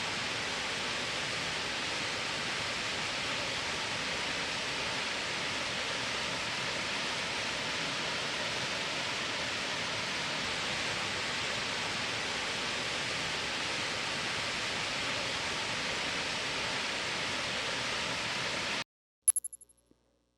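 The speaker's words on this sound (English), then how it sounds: "Big Creek has a few falls here that has my attention." Waterfalls on Big Creek pour in a steady, dense roar, loud and close with an even broadband rush that holds for about nineteen seconds before cutting off abruptly.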